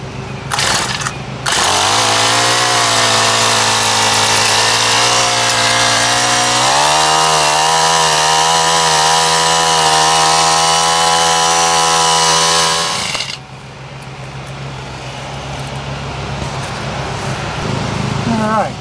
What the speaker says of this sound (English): Turn my little tiller on.